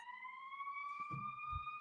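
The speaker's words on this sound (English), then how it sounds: "Chicago police or ambulance. Okay, it's gone." A police or ambulance siren in Chicago wails as a steady high tone rising slowly in pitch, loud and continuous throughout, with a few low thumps and rumbles near the end.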